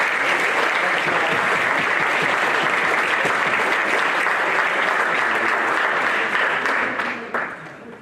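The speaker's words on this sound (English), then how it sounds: "let's give one round of applause for our coaches and for our captains" Sustained applause from a large audience at a Pro Football Hall of Fame ceremony in Canton, Ohio, honoring coaches and captains, steady and dense throughout before tapering off near the end.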